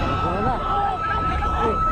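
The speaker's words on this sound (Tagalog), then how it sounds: "Bukod sa pagpapatunog ng sirena" A Chinese coast guard ship's siren wails, rising and falling amid noisy background chatter and wind, moderately loud and continuous, during a resupply mission at Ayungin Shoal.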